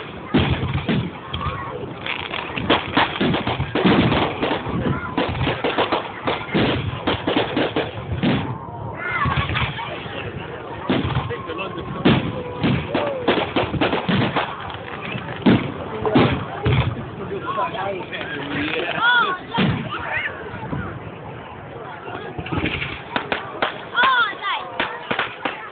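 Fireworks display at Kendal Castle, with dense repeated bangs and crackling bursts going on continuously, loud and near, while people talk over them.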